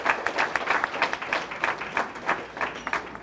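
Audience applause at an outdoor awards ceremony, a steady wash of clapping from a crowd, sustained and fairly loud throughout without talk.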